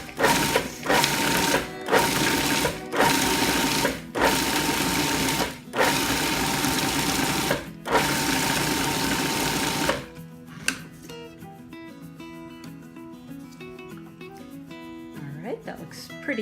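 A food processor pulses nuts and butter for a gluten-free date nut apple crisp topping, with about seven loud, close whirring bursts split by brief gaps, then stopping as quieter background music carries on.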